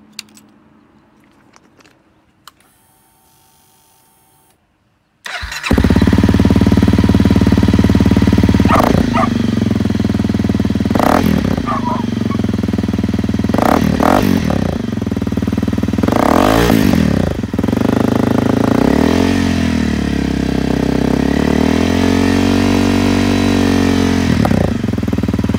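A motorcycle fitted with a new FMF exhaust fires up after a quiet stretch, then settles into a loud, steady idle with several throttle blips rising and falling, close up and alone.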